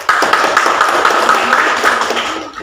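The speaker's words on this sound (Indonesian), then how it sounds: "Tepuk tangan semuanya" A classroom of students claps together in a quick, dense burst of hand claps lasting a couple of seconds, fairly close and steady, then cutting off.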